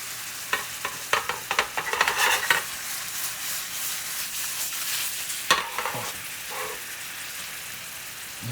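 Mixed berries cook in a hot pan and release their juice, producing a steady low sizzle broken by clattering stirring scrapes. The sound is close and has no talk.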